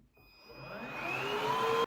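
A cordless vacuum cleaner with an 80000 RPM high-speed brush starting up, a close whine that climbs steadily in pitch and loudness for under two seconds and then cuts off abruptly.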